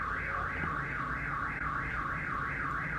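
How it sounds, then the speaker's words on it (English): A car alarm wails in the distance, its siren tone sweeping up and down in a steady repeating cycle, continuous and fairly loud throughout. "There's a car alarm."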